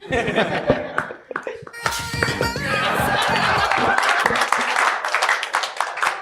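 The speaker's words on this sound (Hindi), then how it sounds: "तुम्हें तालियां बजानी है" Audience applause at a student talent show, a dense, loud wash of clapping that swells after a few scattered claps and carries on with laughter and voices mixed in.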